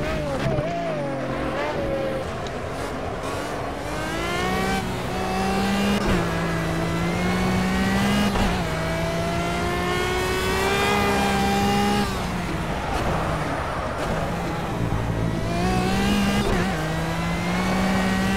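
A Pagani Zonda R races at night in the video game Project CARS, its loud, continuous engine note climbing and dropping through repeated gear shifts, with brief voices now and then.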